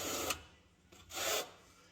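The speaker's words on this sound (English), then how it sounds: "And then I'll use the notch trowel." Notch trowel scraping and spreading setting material across a surface, two short raspy strokes with a pause between, close and moderately loud.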